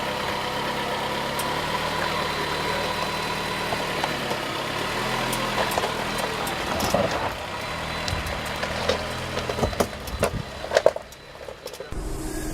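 A 2014 Jeep Cherokee Trailhawk crawls slowly up rocks off-road. Its engine drones at low revs throughout, and scattered knocks and scrapes build toward the end before the sound suddenly drops.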